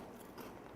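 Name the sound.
biting a crunchy cheese biscuit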